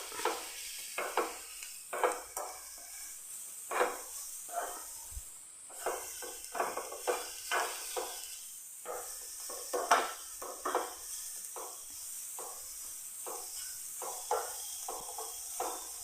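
Sugar melting in a pan on a stovetop is stirred with a utensil, giving repeated scraping, clinking strokes in an uneven rhythm over a soft background sizzle, close and moderately loud, with no talking.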